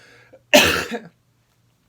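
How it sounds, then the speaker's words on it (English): A single harsh cough from a person with a cold rings out close by, preceded by a faint breath and followed by silence. "Still coughing a little bit"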